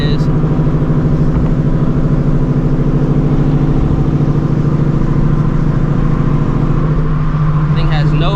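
A supercharged car running with no hood on a highway, its steady engine drone loud and constant throughout, with a rushing road and wind roar underneath and people talking over it.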